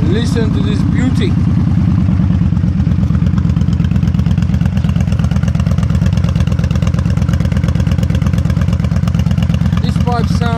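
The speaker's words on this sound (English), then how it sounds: "These pipes sound amazing, and this, I have to point out, they still have the baffles in them." A Yamaha Stryker motorcycle idles loudly and close up through short staggered pipes with baffles still fitted, its exhaust chugging in a steady rapid pulse with a rough, throaty rumble throughout.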